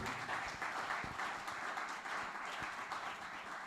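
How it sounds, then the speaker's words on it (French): A conference audience at a job fair breaking into applause, a dense, even patter of many hands clapping continuously at a moderate level from start to finish. "Est-ce qu'on peut applaudir très fort?"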